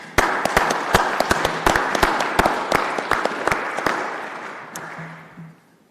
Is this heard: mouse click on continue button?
no